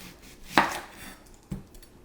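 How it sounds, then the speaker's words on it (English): A knife cuts a red onion into wedges on a board with two distinct chopping knocks, the first sharper and louder, the second softer, close by with no talking. "And then you just cut these into little wedges like so."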